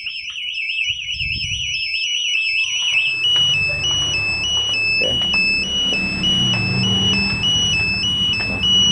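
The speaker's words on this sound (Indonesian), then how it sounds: "alarm yang di motor ataupun yang di remote dia akan respon getar dan bunyi" BHT Gold smart key alarm fitted to a Honda CBR motorcycle, its remote emitting a loud warbling electronic beep for about three seconds, then steady high tones continuing over handling noise and rustling.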